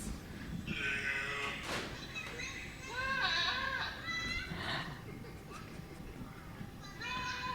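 Goats bleat in a series of wavering, quavering cries, several calls overlapping at moderate distance, with some breathy background noise between them.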